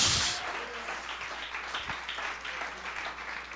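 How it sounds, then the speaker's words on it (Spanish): A church congregation claps together, a dense burst of applause that starts loud and settles into steady, slightly uneven hand-clapping with scattered sharper claps. "Alguien puede decir amén y darle un aplauso al Señor."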